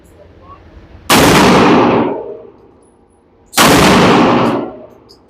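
Two loud gunshots from a Kimber 2K11 Eclipse pistol at a shooting range, each a sharp crack followed by a short fading echo, spaced about two and a half seconds apart.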